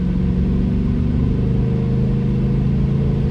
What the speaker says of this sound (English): Oh, Camaro behind me. Hello, old 98 Camaro.